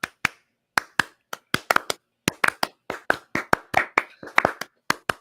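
Sharp, separate hand claps from a small group doing the Clipper clap, about twenty distinct smacks in an uneven, accelerating rhythm, close and fairly loud with silence between hits and no talk.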